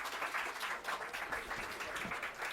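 Audience applause at a Delhi government schools event, dense steady clapping from a crowd throughout, moderately loud and continuous.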